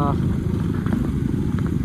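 Four motorbikes riding together along a dusty road near Kulekhani, engines droning steadily and close, with a faint voice talking over the rumble.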